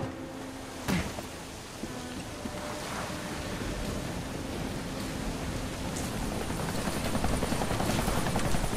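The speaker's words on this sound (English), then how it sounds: "That's the helicopter chasing my friends." A helicopter in the video game Deadlight drones steadily with rotor wash and whooshing noise, growing slightly louder over several seconds, with a sharp impact thump near the start.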